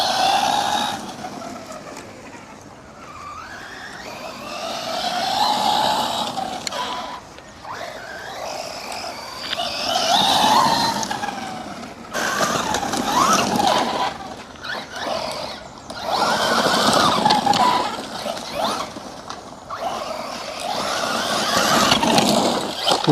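A UDIRC Sierra Max 1/10 RC trophy truck drives across grass, its electric motor whining and rising and falling with throttle through the run, with steady rustling from the tyres and suspension, fairly close and without talk.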